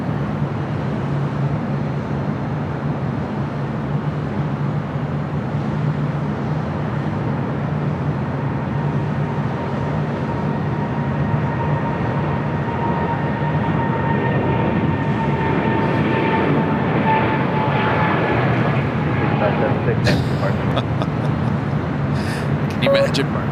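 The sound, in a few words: EVA Air Cargo Boeing 777 freighter taking off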